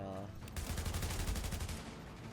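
Rapid bursts of automatic gunfire crackle in The Division video game, a short, dense volley of shots heard at moderate volume.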